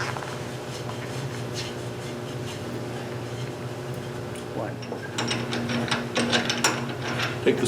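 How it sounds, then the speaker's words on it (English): A screw chuck being unscrewed and removed from a wood lathe while turning a platter gives a steady low mechanical hum with ratcheting clicks and rattles, which grow busier and louder toward the end. "Take the screw chuck out."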